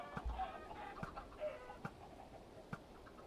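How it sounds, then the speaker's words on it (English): Chickens in a video game cluck in short, separate bursts, quiet and close, with a few sharp pecking clicks between the calls and no talking. "Finally got enough chickens in there."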